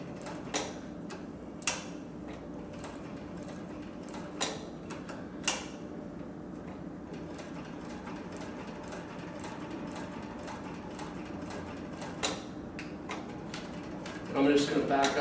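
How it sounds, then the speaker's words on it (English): A Cowboy CB341 industrial sewing machine runs very quietly, a steady low mechanical hum with faint periodic ticks, sewing through four layers of material; a louder clatter of stitching builds near the end. "So the machine's very, very quiet when it runs"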